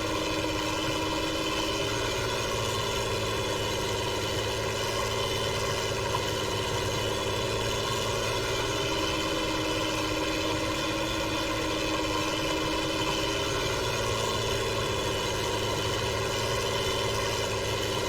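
A Ford TW35 tractor engine idling in a farming video game, a loud, constant, droning rumble with steady tonal hum and no change in pace throughout, heard alone.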